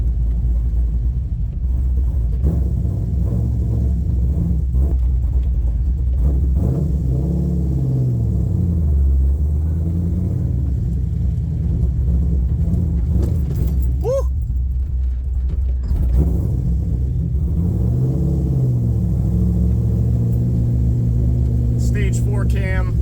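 LS3-swapped 1969 Camaro with a stage 4 cam, little tuning and a fully custom exhaust, heard from inside while driving: a loud, continuous lumpy rumble with repeated rising and falling revs, and occasional talk over it.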